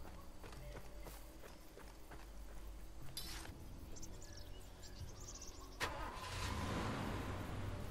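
A car engine runs in the video game Far Cry 2, a quiet, low drone with a few clicks and bumps, swelling somewhat louder toward the end.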